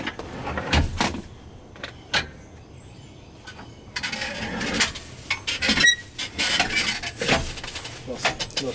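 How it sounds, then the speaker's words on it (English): A swivel seat in a Dodge Promaster camper conversion is turned back into position, making a series of clunks, creaks and brief squeaks at close range, with some knocking and rustling mixed in. "So let me swivel this back, put this back into position."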